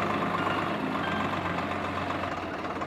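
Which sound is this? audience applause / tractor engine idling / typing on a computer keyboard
tractor engine idling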